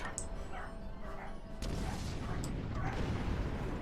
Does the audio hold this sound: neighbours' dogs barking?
yes